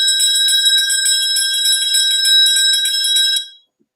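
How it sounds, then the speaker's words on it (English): A bright electric bell rings continuously at closing time for last orders at a pub, loud and sustained for about three and a half seconds before cutting off abruptly into silence. "That's the bell for last orders."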